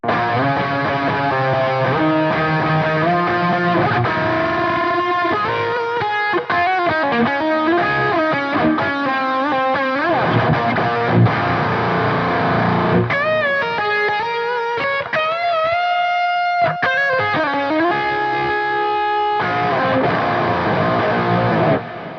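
Headrush MX5 amp modeler playing a high-gain distorted electric guitar lead, with sustained bent notes and fast melodic runs over heavy saturated chords, loud and continuous with no voices.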